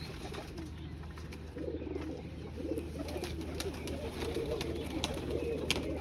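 Pigeons cooing softly and repeatedly among a flock kept for sale, with a low steady murmur of overlapping coos and faint chirps throughout.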